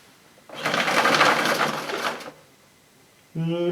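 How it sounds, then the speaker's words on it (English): The power cable of a Hoover Blaze bagless cylinder vacuum cleaner rewinds with a loud whirring rattle that lasts about two seconds and then stops abruptly. A voice begins speaking just afterward. "Let's see how effective the cable rewind is on this Hoover Blaze cylinder."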